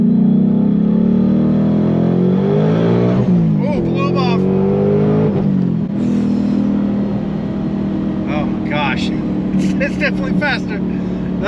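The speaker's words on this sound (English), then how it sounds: "The whooshy noises you get from these sensory blowers is definitely amplified now" Supercharged 2021 Ford Mustang Mach 1 with a smaller blower pulley and E85 fuel, heard at full throttle from inside. The engine drone rises through the gears with rising supercharger whine and whoosh, quick shift dips between pulls, and loud voices over it.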